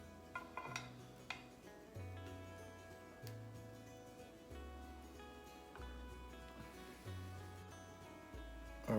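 Roasted acorn squash with honey and butter being moved into a serving dish, giving quiet scattered clinks and scrapes of cookware and utensils.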